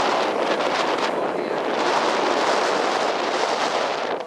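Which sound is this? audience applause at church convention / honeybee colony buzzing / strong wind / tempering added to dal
strong wind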